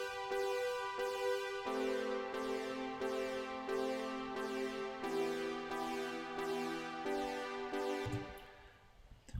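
A Poly 2 release synth instrument in Ableton, with tuner, EQ and reverb, plays a sustained chord sequence, the chords changing every second or so before the sound fades and cuts off near the end.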